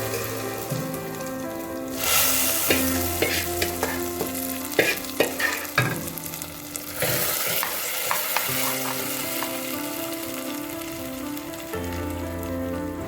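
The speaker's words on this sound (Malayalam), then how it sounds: "ആ വറുത്ത തേങ്ങ എടുത്തിട്ട് നമ്മളിങ്ങനെ ചട്ടിക്കകത്തിട്ട് അങ്ങോട്ട് കടു വറുത്ത് അതിൽ അങ്ങോട്ട് താളിച്ചിട്ട്" Mustard seeds and roasted coconut sizzle loudly in a pan for a Kerala jackfruit erissery tempering, a dense steady crackle with sharp pops throughout, stirring clatter mixed in, and no talking.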